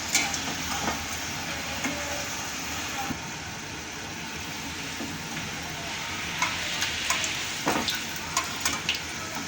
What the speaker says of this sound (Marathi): आता आपल्याला हे पोळ्या याच्यात तळून घ्यायच्या आहे